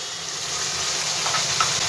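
Spice masala sizzles in hot oil for a vegetarian dish, a steady, close crackling hiss with small pops near the end, no voices.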